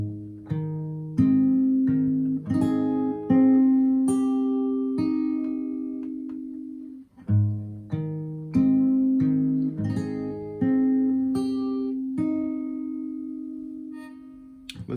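Fingerstyle acoustic guitar plays two combined parts of a song, clear plucked notes and ringing chords in a slow repeating pattern, close and solo with no talk.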